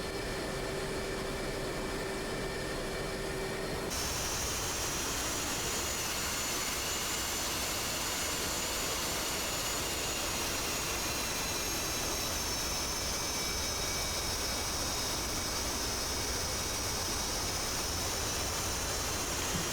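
An F/A-18C Hornet taxies on the moving deck of an aircraft carrier in a combat flight simulator, its jet engines giving a steady, loud roar and whine that holds throughout with no talk.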